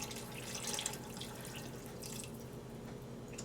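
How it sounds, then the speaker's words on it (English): Water poured into a cooking pot of black-eyed peas, a steady, close splashing trickle at moderate level, with no talking over it. "I'm gonna pour a little more water over here."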